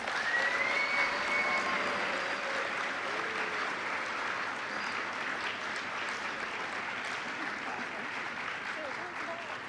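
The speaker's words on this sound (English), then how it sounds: "Let's give a round of applause for our 3 amazing speakers." Sustained applause from students at a school assembly for three speakers, a broad, steady roar of many hands clapping in a large room with scattered cheers and voices, tapering slightly toward the end.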